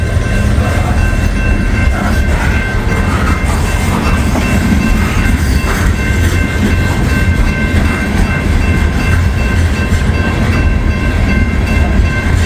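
A heavy coal train rumbles steadily past at close range, its wagons clattering and rattling continuously throughout.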